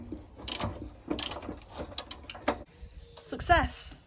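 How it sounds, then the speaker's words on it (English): Ratchet clicking in quick bursts as rusty bolts are worked loose on a 23-year-old car, close and fairly loud, with someone talking between the runs of clicks. "I've got those 3 bolts out"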